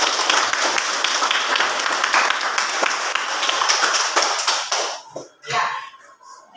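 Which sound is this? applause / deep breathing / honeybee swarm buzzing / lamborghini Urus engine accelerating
applause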